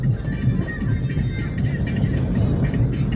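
A car engine hums steadily during a driving lesson as the car gently gains speed, loud and close with a constant low drone throughout.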